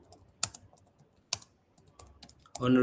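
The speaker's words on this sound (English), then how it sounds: "You can try to keep typing as it is suggesting you." Keys on a computer keyboard are tapped in short, sparse clusters, close and crisp, ending in a brief louder burst.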